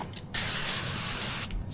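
Liquid sprayed onto a car window during window tinting, a close hissing spray burst lasting just over a second with no talking.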